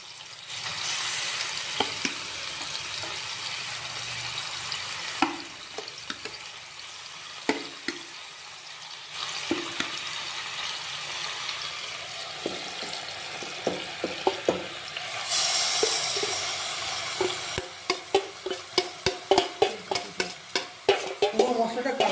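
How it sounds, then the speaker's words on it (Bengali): Marinated chicken leg pieces going into a pressure cooker, with a sizzle from the cooker and a series of sharp clinks and scrapes of a spoon and pieces dropped against metal, growing more rapid toward the end. "ম্যারিনেট করা মাংসটা কুকারে দিয়ে দেওয়া হচ্ছে।"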